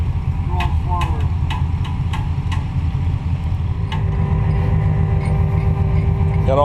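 Buggy engine cranking and running during a recovery in the woods, a continuous low mechanical drone with repeated sharp ticking or clanking knocks early on, a voice briefly audible.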